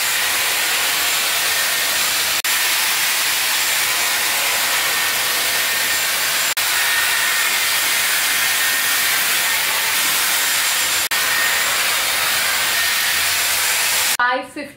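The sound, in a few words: Dyson Airwrap hair styler blowing air while smoothing hair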